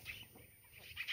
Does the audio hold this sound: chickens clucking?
yes